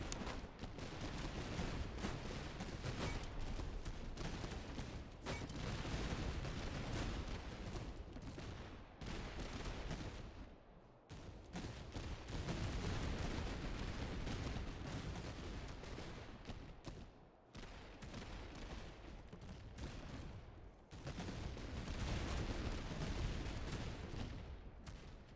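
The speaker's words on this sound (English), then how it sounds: "them cannons are doing some work" Cannon fire in the Napoleonic strategy game Master of Command, with Austrian border troops in battle: a dense, continuous barrage of booming artillery and musket volleys, loud and relentless, with brief lulls near the middle.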